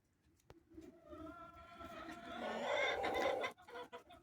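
Hens in an outdoor pen enclosure cluck nearby, a series of rising throaty clucks building to a louder burst of squawking, then a few scattered short calls.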